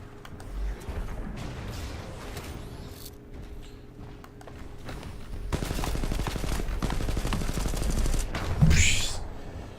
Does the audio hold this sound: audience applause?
no